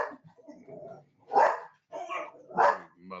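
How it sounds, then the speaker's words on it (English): Dogs give a few barks and yips at close range, two louder barks standing out, with short quiet gaps between them. "Your dogs don't like Jey Uso"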